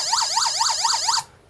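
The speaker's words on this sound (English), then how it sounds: "Police siren." An electronic police siren from a Velleman MK113 sound generator kit wails in rapid rising-and-falling sweeps, loud and close, for just over a second before cutting off abruptly.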